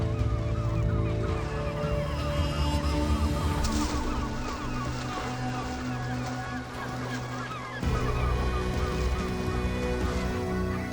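Herring gulls call over one another in a noisy, overlapping clamour as they fight over fish left by whales at sea, with harsh squawks and honking cries over low rumbling background.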